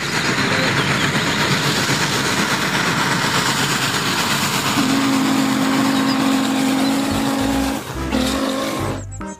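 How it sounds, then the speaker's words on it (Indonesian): A heavy steam locomotive pulling cargo wagons rumbles and clanks steadily nearby, with a sustained low tone entering midway and a burst of louder mechanical noise near the end. "ada lokomotif kereta api uap sedang menarik gerbong kargo"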